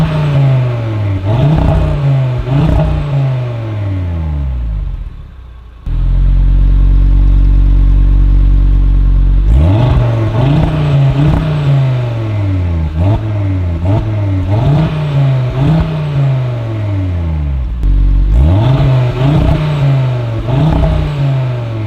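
Audi RS3 8Y Sportback (2022) five-cylinder engine revving hard through its exhaust, repeated rising and falling throttle blips in quick bursts with a steady, loud idle pause between them, close and alone with no talk.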